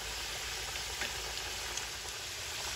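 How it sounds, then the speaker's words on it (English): Steady crackling sizzle of potatoes deep frying fully submerged in hot oil in a cast iron skillet, a continuous bubbling hiss with faint pops. "They're deep frying, totally submerged."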